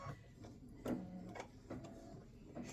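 An embroidery machine runs a lavender fill stitch on the handles of a scissors design, giving a steady, close mechanical chatter with rhythmic clicks and small periodic thumps throughout.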